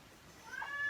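A single short, faint meow from a house cat indoors, rising briefly in the background against quiet room noise.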